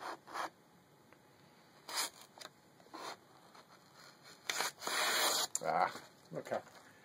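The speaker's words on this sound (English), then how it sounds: "Can I shave the paper?" A giant Gurkha khukuri knife blade shaving paper, heard as several short dry scraping strokes, quiet and close, spaced irregularly with one longer stroke near the end.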